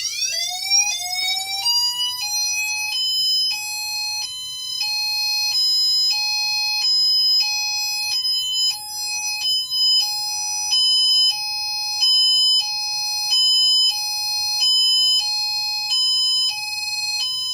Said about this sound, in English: So here goes high-low. Steady high-low, not alternate high-low.